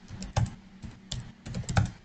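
Someone types a command on a computer keyboard with a short burst of irregular, clicky keystrokes, several clustered hits and a louder final press, close and clear with no talk.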